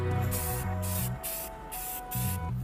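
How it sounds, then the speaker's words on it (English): Spray can of plastic spray paint hissing in several close, loud bursts separated by short pauses, with a low mechanical hum underneath and no talking. "we're going to spray paint it with some plastic spray paint"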